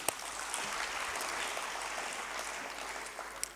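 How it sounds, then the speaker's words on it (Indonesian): Audience applause at the opening ceremony of the IFEX 2023 trade expo, a steady wash of many hands clapping that holds evenly throughout at moderate distance, with no voices on top. "Tepuk tangan."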